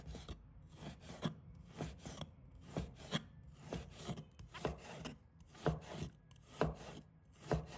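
Knife slicing pork belly on a cutting board, a series of faint, regular chopping thuds with soft scraping between strokes, heard alone.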